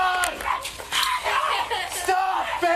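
A dog barks and whimpers close by in a tense scene, with high yips and whines mixed among shouting voices throughout.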